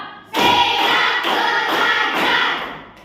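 A classroom of pupils claps together in unison in a run of five rapid, close, loud claps that blur into a dense patter before fading.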